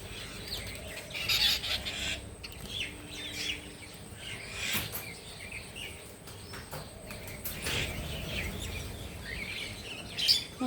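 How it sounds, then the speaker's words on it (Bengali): Pet birds being fed give scattered chirps and calls at a low level, short bright notes popping up irregularly over soft background noise. "পাখিদের খেতে দিতে ভালো লাগে"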